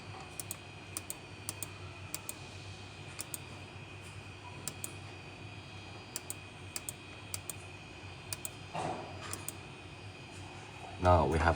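Sparse, light keystrokes tapped one by one on a computer keyboard while a password is entered, the clicks coming in small irregular clusters over a steady background hum, with a louder clatter near the end.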